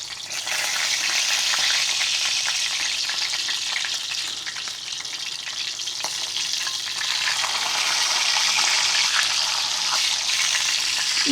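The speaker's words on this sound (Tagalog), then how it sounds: "Nakaprito na po tayo ng bangus." Milkfish (bangus) frying in hot oil, a steady, dense sizzle that carries on without a break for the whole stretch, close by, with no talking.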